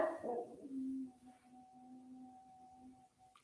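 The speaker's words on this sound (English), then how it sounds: "I hear Duncan howling out there like a big wolf. He's doing a howl" A dog howls like a wolf outdoors in the cold, a faint, distant, long drawn-out wail that follows a brief louder noise and fades toward the end.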